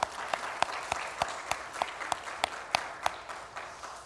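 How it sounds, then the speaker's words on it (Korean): A church congregation in a Sunday worship service claps in sparse, evenly spaced single claps, a dozen or so sharp beats at moderate distance rather than a full ovation. "박수 합시다."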